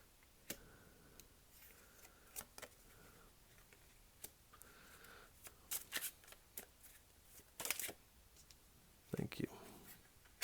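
A tarot oracle card deck is shuffled close up, with quick riffling bursts and scattered taps and clicks, growing busier toward the end, in a quiet room with brief speech in places.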